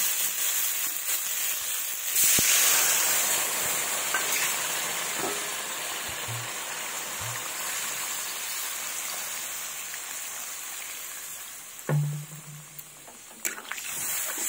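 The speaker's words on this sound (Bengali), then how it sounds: "এবার আমি জল দেব" Water hits a hot pan of fried duck egg curry base, giving a loud, steady hiss and sizzle that carries on with little change, with a few faint clinks near the end.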